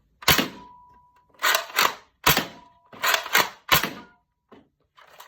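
Nerf gun firing small darts, a series of about six sharp plasticky thunks in quick irregular succession, some doubled, close and fairly loud, with faint clicks after.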